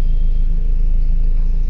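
A car pulling away slowly in first gear on a street as the clutch and brake are let go, with a steady low engine rumble and drone throughout, close and continuous.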